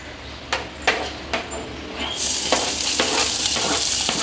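Green chilies, shallots and a chili are stirred into a hot pan: a few sharp spoon knocks against the metal, then a sudden loud sizzle with brisk scraping strokes, heard up close without any talking.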